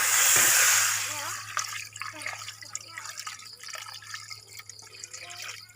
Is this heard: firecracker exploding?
no